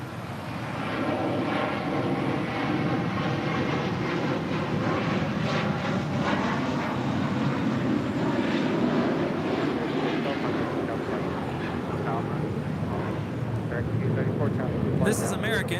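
Korean Air Airbus A380 jet departing LAX for Seoul, a loud, steady broadband engine roar that holds nearly constant throughout, with faint talk underneath.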